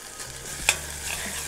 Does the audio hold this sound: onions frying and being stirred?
yes